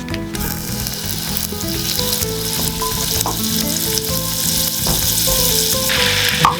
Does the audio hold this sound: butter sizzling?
yes